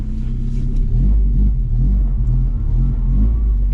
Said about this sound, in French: Beau petit bruit, beau petit moteur.